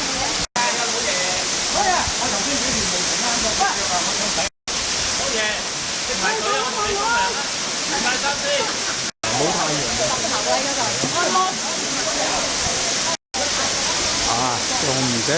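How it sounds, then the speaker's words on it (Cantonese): A 20-metre waterfall at Wutong village roars in a loud, steady broadband rush, with voices talking over it and a few brief dropouts. "20米高嘅瀑布啊！"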